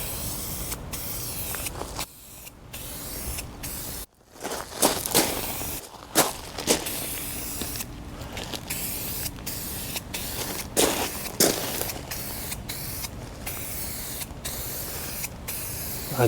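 Bursts of aerosol spray hiss from a rattle can as side covers of a 1979 Honda CB750K are painted, repeated in short and long passes with brief pauses between, close and fairly loud.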